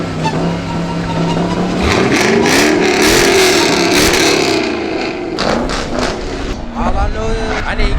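A supercharged Dodge Hellcat engine revs hard and rises through several swells, loud and close at a Mopar gathering, with people talking over it.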